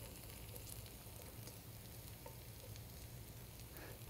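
Garlic browning in hot oil in a pan makes a faint, steady sizzle and crackle throughout, with small pops scattered across it and no talking.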